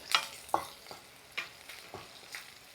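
Garlic, ginger and green chilli fry in very hot coconut oil on a hot stove, with a soft sizzle and about five short scraping stir strokes spaced across the quiet clip.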